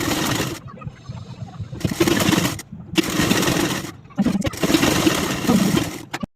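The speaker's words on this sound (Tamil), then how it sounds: "இப்போ ஸ்ட்ரெயிட்டாக தையல் போட்டுக்கலாம்." A sewing machine runs in several bursts, stitching a straight seam along a half-inch fold of blouse fabric. The motor whirs loudly for about a second at a time, with short pauses between runs.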